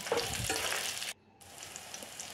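Brinjal and potatoes fry in a pan, a soft steady sizzle that drops out briefly near the middle and then resumes more faintly; no talking.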